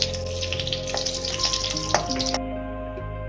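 Food frying over a low flame in a generous amount of oil, as used for meat, gives a steady close sizzle with scattered crackles, stopping abruptly near the end and leaving a low hum with no talk.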